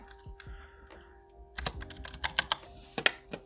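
Keystrokes on a computer keyboard while a file name is typed, a scattered run of light clicks that grows busier and slightly louder toward the end, close and alone without talk.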